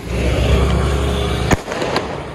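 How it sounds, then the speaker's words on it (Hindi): A Diwali firecracker bursts with one sharp, loud bang after a sustained hiss and crackle, followed by a fainter second pop. "ये है लास्ट पटाखा, अब इसको एकदम अच्छे से फोड़ते हैं।"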